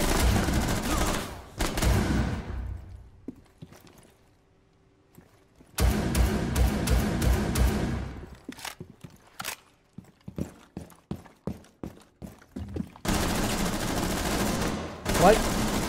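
Gunfire in Rainbow Six Siege: loud sustained bursts of automatic fire, then a quiet pause, a string of separate sharp shots, and another heavy burst, all close and punchy.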